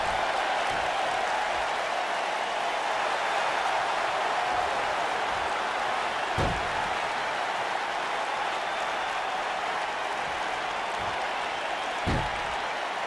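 Crowd noise in an NXT TakeOver: Phoenix wrestling video game simulation forms a steady, fairly faint wash of cheering and applause-like hiss, with a couple of brief low thumps.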